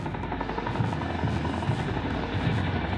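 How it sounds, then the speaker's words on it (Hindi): A Chinook helicopter flying in the high-altitude Ladakh region, heard as a loud, steady rotor drone with a low rhythmic thumping throughout, and no one talking. "शिनूक हेलीकॉप्टर लद्दाख रीजन में सियाचिन ग्लेशियर समेत ऊंचाई वाली जगहों में उड़ान भरने लगे हैं।"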